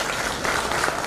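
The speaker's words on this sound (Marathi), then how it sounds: "पण टाळ्या वाजवायला काही हरकत नाही." An audience at an awards ceremony claps in a short burst of steady, dense applause filling the hall.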